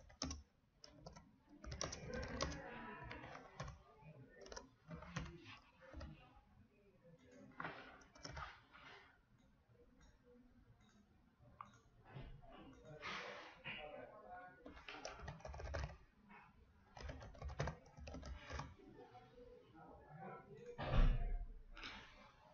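Text being typed on a computer keyboard, close bursts of quick key clatter separated by pauses, fairly soft, with occasional faint breathing and no clear speech.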